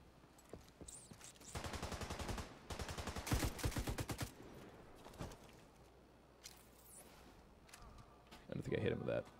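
Shotgun blasts and gunfire from The Division 2 shooter game, a dense burst of repeated loud shots in the first half followed by scattered quieter shots and one more loud burst near the end, with someone talking over it.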